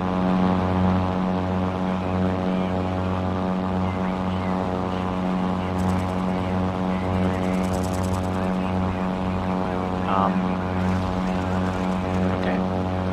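A propeller plane in Crimson Skies drones with a steady engine hum and a pulsing, throbbing rhythm, loud and continuous throughout, with faint higher whines and clicks from the game layered on top.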